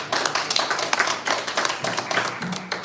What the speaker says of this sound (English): That was the first proper, first applause.